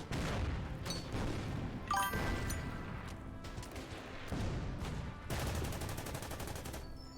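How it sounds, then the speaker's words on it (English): Japanese artillery fire in the Order of Battle strategy game: several heavy booming impacts with crashing bursts, fairly close, spaced irregularly over the stretch with no talk. "Japanese artillery's hitting us."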